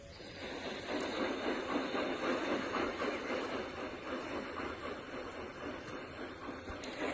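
A steam train pulls away with a steady, continuous hiss of steam and faint rumbling, fairly distant and even throughout, with no voices.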